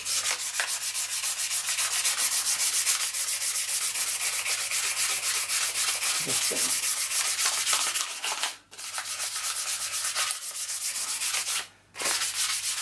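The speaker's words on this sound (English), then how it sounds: "I'm going to go for some 800 grit, wet and dry, and then just try and give it a good rub down" Steady, close rubbing of 800 grit wet and dry paper wet sanding an engine part, a continuous scratchy back-and-forth that runs loud and unbroken, pausing briefly twice near the end.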